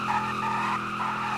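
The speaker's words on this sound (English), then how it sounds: "This thing definitely does some burnouts too" A 2002 Chevrolet Silverado pickup with no bed does a burnout, its tires letting out a sustained, loud squeal over steady engine roar for the full stretch, with no talking.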